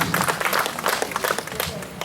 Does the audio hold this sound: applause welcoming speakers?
yes